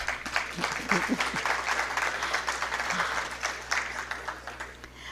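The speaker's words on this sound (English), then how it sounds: "I think you want to clap for that." Audience applause at the launch of a woodworking apprenticeship programme, even clapping from a crowd heard at moderate distance, steady throughout with a low hum beneath.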